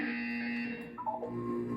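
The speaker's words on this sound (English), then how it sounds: "You will hear a buzzer. When you hear the buzzer, look up at the ceiling." A steady electronic buzzer drones in the Portal 2 video game, holding a harsh tone before shifting pitch partway through, clear and alone.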